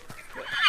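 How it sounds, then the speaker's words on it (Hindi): A stubborn, hard-to-control horse in a historical drama gives a loud, close neigh, a short rising whinny that swells and quavers toward the end, heard alone without talk. "ये घोड़ा काफी अड़ियल है भगत,"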